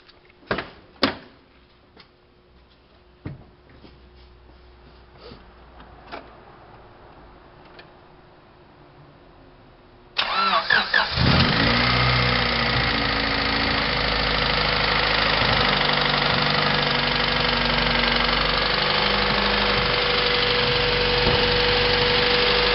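Honda car engine fitted with a coil-on-plug ignition setup, quiet ticks and clicks at first, then cranking that catches partway through into a loud, steady, slightly rough idle that continues to the end.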